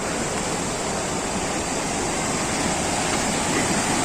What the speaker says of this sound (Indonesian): Akhirnya sampai juga di air terjun Lubuk Kudo. Wah, airnya luar biasa besar ya.